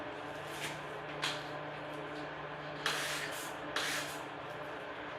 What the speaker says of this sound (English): we're gonna spray it out, and then we're gonna go ahead and squeegee it one more time